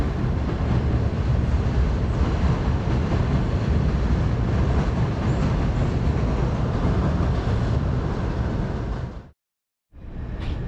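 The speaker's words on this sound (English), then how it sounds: "The subway ride from Coney Island into the city all the way up to the Bronx Zoo." A New York subway train rides from Coney Island with a loud, steady roar and rattle of wheels and cars, then cuts out briefly before the rumble returns.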